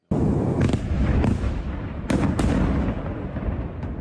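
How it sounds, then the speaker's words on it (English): Airstrike explosions in Lebanon, a dense rumbling roar broken by several sharp blasts, with two strong cracks past the midpoint, loud and continuous throughout, with no voices. "A few minutes after the funeral, airstrikes hit the same location."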